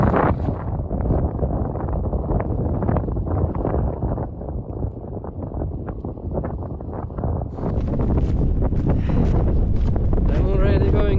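Strong wind buffets the microphone on a snowy mountain summit after the season's first snowstorm, a loud continuous roar with gusty surges throughout and a voice faintly heard beneath it.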